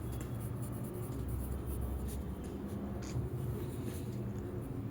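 Chalk or marker scratches in short strokes across a board during a maths class on counting, a faint, quick, rhythmic scraping over a low room hum, without speech.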